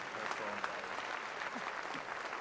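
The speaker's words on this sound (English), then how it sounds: "how about another round of applause for the fabulous" An audience gives the band another round of applause at an outdoor inauguration celebration, a faint, steady spread of clapping with brief murmured voices.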